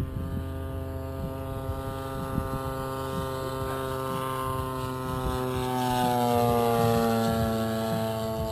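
Large fuel-engined model airplane at a jumbo fly-in, a steady droning propeller engine whose pitch rises and swells louder as it passes nearer, alone without talk.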